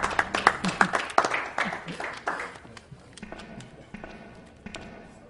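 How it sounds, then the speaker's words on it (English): A scattered audience at a live speedrun charity stream claps in a short burst that quickly thins out into a few trailing claps and quiet background noise. "You can clap if you want."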